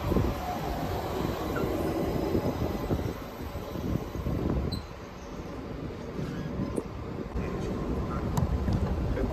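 Class 376 electric train at Gravesend station, a steady rumbling roar of the train passing close by, with faint wheel squeal and station noise running throughout.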